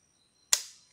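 A single sharp shotgun blast of buckshot fired at an HP laptop cracks out once, close and loud, then decays over a short tail in otherwise quiet surroundings.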